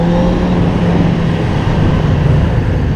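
A Suzuki GSXF 600 motorcycle being ridden, its engine droning in a steady loud hum with wind rush, close and constant throughout.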